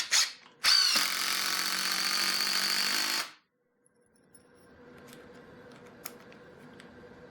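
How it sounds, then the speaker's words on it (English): A Ridgid brushless hammer drill drives 3-inch screws, whirring loudly and steadily for about three seconds, then cuts off, leaving faint rattles and clicks. "Drill a couple, got 3-inch screws here"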